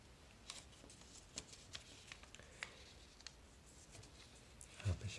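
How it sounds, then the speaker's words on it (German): A sheet of paper is folded and creased by hand, giving faint scattered crisp rustles and taps close by, then a louder crinkle near the end, in a quiet room. "habe ich es einmal so gefaltet. Und noch ein weiteres Mal."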